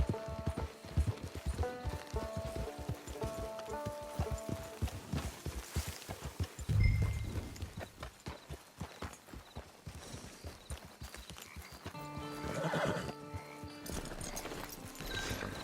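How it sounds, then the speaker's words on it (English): Horse hooves clip-clopping steadily in Red Dead Redemption 2 Online, with a brief neigh-like swell partway through, close and fairly loud over game ambience and faint music. "It's your horse."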